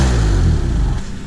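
Car engine with a full exhaust system revving hard, a loud, close, deep throaty roar that eases off slightly toward the end, with no talking.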